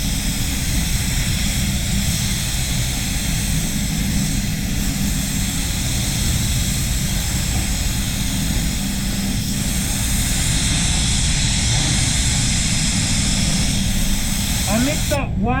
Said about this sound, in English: How good is that big fan though, eh?